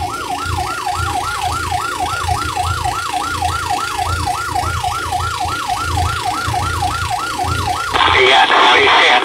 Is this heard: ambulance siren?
yes